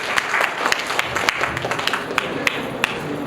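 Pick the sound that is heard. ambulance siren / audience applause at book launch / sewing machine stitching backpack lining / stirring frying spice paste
audience applause at book launch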